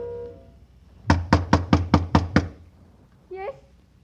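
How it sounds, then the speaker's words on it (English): In a 1949 old-time radio crime drama, a fist raps a door seven times in quick, even succession, loud and close, followed by a brief voice. "waiting for a knock that had to come"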